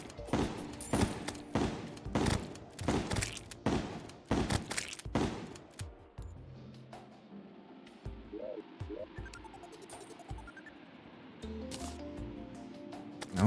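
Terraria gun firing tungsten ammunition, a steady run of sharp evenly spaced shots for several seconds, then quieter game sounds with scattered blips.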